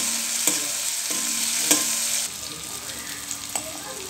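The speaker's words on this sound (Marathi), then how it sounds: "मिक्स करून घेऊया।" A tomato, grated coconut and coriander paste is stirred in a hot pan, sizzling steadily while a spoon scrapes at intervals, close and fairly quiet, with no talk.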